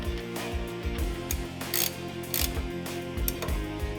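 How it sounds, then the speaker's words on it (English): A wrench ratchets nuts snug on a light bar mount for a Chevy truck, giving close, repeated clicking strokes in quick bursts with brief pauses and no talk. "Start your nuts and get the wrench and snug them up"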